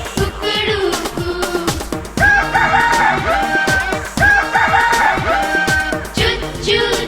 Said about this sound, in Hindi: मुर्गा बोले कुकड़ूकू